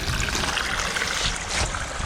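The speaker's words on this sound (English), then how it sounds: "we've got noise, so we've got one waterfall there" Water trickling and splashing steadily down a pondless garden waterfall built on concrete, a continuous close wash of running water with no talk.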